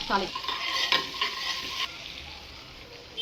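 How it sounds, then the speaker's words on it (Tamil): Cumin seeds sizzle in butter in a pan, a bright crackling fry with a few stirring scrapes that settles into a steady, softer hiss. "பேன்லேயே இன்னும் கொஞ்சம் பட்டர் போட்டுங்க. இப்போ ஜீரகம் கொஞ்சம் ஆட் பண்ணிக்கங்க."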